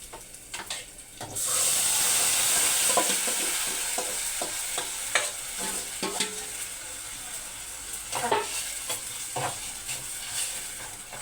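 Potatoes drop into a hot pan and burst into a loud, sustained sizzle that slowly eases, while a spoon scrapes and stirs them in irregular strokes, with no talking.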